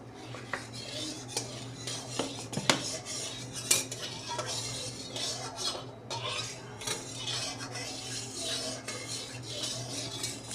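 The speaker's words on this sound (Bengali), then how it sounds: "সর্ষের তেলটা দিয়ে ভালো করে নেড়ে চেড়ে নেবো।" Mustard oil going into a hot wok for a Bengali prawn and taro curry, with a metal utensil scraping and clinking steadily against the pan, sharp clatters scattered through a faint sizzle, close and alone.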